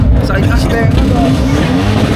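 Car engines rev loudly and continuously at a car show, a dense low roar with overlapping engine noise and crowd chatter throughout.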